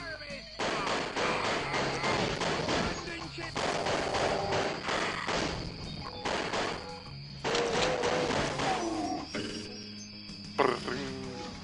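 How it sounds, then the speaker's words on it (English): Repeated pistol gunfire from the video game Doom, a dense run of sharp shots in quick bursts with brief pauses, loud and close amid game sound effects. "I'm actually using the pistol because it actually, is better than the regular Doom pistol"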